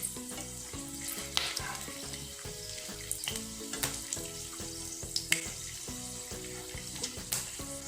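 Whole garam masala spices sizzling and crackling in hot oil in a pan, a steady close frying hiss with occasional sharp pops and stirring clatter, no talking.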